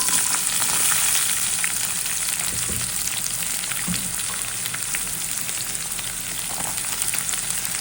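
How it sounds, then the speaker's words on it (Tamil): Onions sizzle and crackle steadily in hot coconut oil, a constant frying hiss with occasional soft pops, close by and without talk. "இது நல்லா ஃப்ரை ஆகட்டும்."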